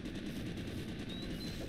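Rapid gunfire in the video game Cobalt, a dense steady burst of shots filling the whole moment, loud and close with no speech.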